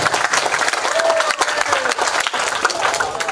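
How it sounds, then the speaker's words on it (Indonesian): Dense, steady applause from a seated crowd at a Malay-Indonesian language literacy camp discussion in Bangka, loud and continuous throughout with scattered claps standing out. "Tepuk tangan untuk kita semuanya."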